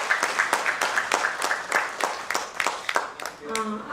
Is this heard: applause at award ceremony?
yes